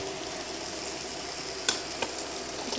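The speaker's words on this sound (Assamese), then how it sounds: "আমি ইয়াত মাংসখিনি দি দিলোঁ। এইখিনি ভালদৰে ভাজিব লাগিব" Duck meat is tossed into spices already frying in a pan, producing a constant close sizzle and hiss with two brief sharp clicks of a utensil.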